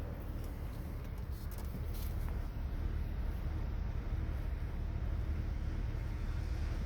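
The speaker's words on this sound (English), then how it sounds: "The wind's blowing quite good today" Wind blowing outdoors in a town, a continuous loud low rumble buffeting the microphone with no let-up.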